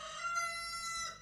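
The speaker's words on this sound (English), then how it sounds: "And you can hear some roosters in the background." A rooster crows once, a clear drawn-out call that rises and fades, fairly distant and alone.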